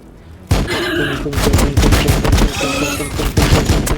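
Boltgun fire from the Warhammer 40K Battlesector video game, in the Blood Angels campaign: a loud, dense fusillade of rapid overlapping shots that bursts in abruptly and sustains near and heavy, with no talk.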